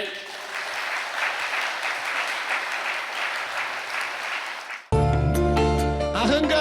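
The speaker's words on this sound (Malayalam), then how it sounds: "ഒന്ന് ഉയർത്തി കൈയടിച്ചേ" A church congregation applauds during a Malayalam sermon, with dense, loud, sustained clapping for several seconds before music takes over abruptly.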